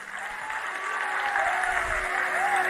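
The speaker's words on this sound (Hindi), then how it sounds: "सब लोग ताली बजाइए कि लगभग पारित हो गया है।" Audience at a Hindu Sanatan religious assembly of saints applauding steadily throughout, a dense continuous clapping with a sustained tone running beneath it.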